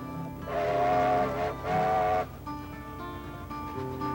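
A steam train whistle sounds two sustained blasts, each about a second long and separated by a short gap, ringing over a low rumbling rail background that carries on after the whistle stops.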